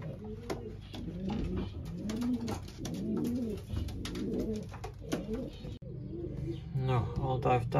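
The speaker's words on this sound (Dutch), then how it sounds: "Nou, alle duiven thuis." Domestic racing pigeons coo repeatedly in a loft after returning from a race, a soft rhythmic chorus of rolling calls with some scuffling, fairly close and moderately quiet.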